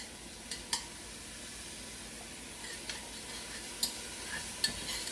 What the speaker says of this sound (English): once that oil heats up, we're just going to kind of saute that garlic just a minute